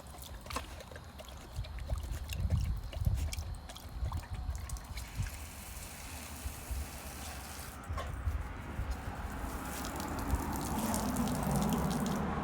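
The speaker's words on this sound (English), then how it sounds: "So I'm just gonna do this until the hose is empty." Water from a retractable garden hose trickles and splashes in a soft, uneven stream, fairly faint and close, with drips and gurgles rising again toward the end.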